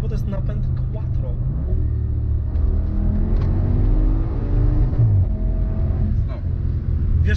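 A 1040 HP quattro Audi RS6 R accelerates hard, its engine note climbing steadily as it gains speed, loud and close, with a voice speaking over it.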